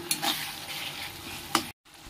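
Jackfruit fries in a pan with a little sugar added for colour, giving a steady close sizzle with a couple of sharp stirring scrapes before the sound cuts off abruptly.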